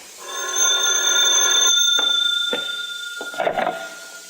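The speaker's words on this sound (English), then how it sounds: "that's when the phone rang" An old-fashioned telephone bell rings loudly and steadily in a 1951 radio drama, set upstairs above a cafe, with one sustained ring followed by a few short clicks and knocks as the ringing cuts off.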